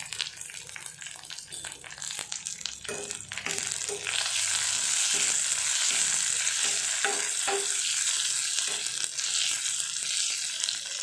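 Curry leaves crackle and fry in hot oil as a spoon stirs them through, a steady close sizzle that swells louder midway, with occasional scrapes against the pan.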